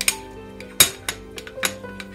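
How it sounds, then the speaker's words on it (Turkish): A spoon knocks and scrapes around a bowl while mixing a yeast face mask, several sharp clinks at an uneven pace, close and fairly loud with no talking. "Şöyle bir güzel karıştıralım."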